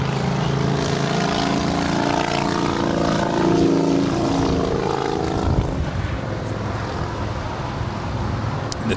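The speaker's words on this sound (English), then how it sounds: "It's the big Q, Qatar Airways, A350-1000, about to touch down there on 24 right" A Qatar Airways Airbus A350-1000 about to touch down on runway 24 right at Los Angeles International Airport, its engine drone and whine fairly loud and steady, peaking midway, then easing off.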